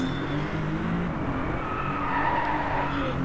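Racing cars in the driving game Driveclub, with engines droning steadily and tires squealing and skidding through a corner, loud and continuous, with no voices.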